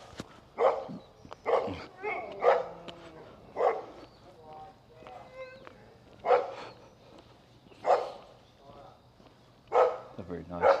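Dogs bark repeatedly from behind fences along a street in Innisfail, Australia, with sharp, fairly close barks coming in an irregular series of bursts.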